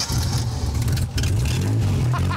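An old car's 2.5 or 3 litre V6 engine cranking and turning over, loud and close, with a brief dip before it churns on amid scrapyard noise.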